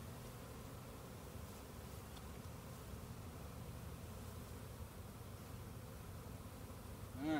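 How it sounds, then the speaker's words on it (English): A continuous low buzzing hum of a bee swarm being captured, steady and dense, without any talking. "we got a lot of bees wanting to kind of work their way up to the top"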